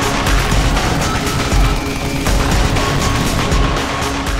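Rapid bursts of weapon gunfire in the futuristic shooter Deus Ex: Human Revolution, a loud, dense run of overlapping shots and booms with no pauses and no voices.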